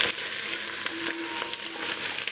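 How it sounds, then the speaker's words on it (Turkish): Tail fat melts in a cast iron pot, giving a steady, close, loud sizzle and crackle with light stirring scrapes and no talking. "Kuyruk yağlarını burada iyice eritmemiz gerekiyor."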